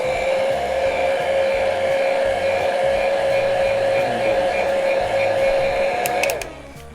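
A hair dryer blows on wet paint with a loud, steady whine and airy rush, running constantly for about six seconds before switching off and winding down abruptly at the end.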